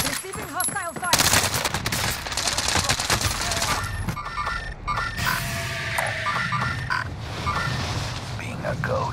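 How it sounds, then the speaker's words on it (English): Hostile gunfire in a video game rattles densely and without pause, fast overlapping shots mixed with sharp electronic tones and other in-game effects that fill the whole stretch at a steady, fairly loud level. "Receiving hostile fire."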